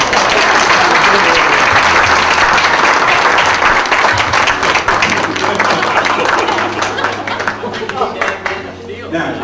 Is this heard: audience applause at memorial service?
yes